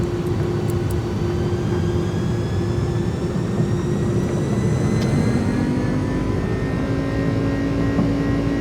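Jet engines of an iniBuilds Airbus A300-600 in a flight simulator spool up for takeoff with auto thrust engaged, a loud continuous roar with rising whine tones building steadily and no talking over it.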